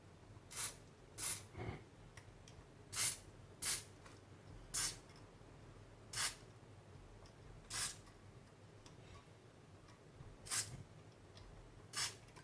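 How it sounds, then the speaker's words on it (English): DeoxIT contact cleaner sprayed onto the push buttons of a Grundig Transistor 860 radio: about a dozen short, sharp hissing spurts at irregular intervals, close and fairly quiet, with faint button clicks between them. "I think I'm just going to spray them with some deoxit"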